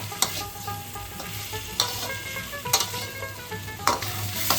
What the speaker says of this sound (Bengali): এবার আমি ভেজে রাখা ডিমগুলো দিয়ে দিচ্ছি, দিয়ে একটু কষিয়ে নেব।